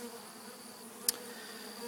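Honeybees buzz steadily around a beekeeper shaking them off a frame while a queen flies off, a close, continuous drone with one brief sharp click partway through.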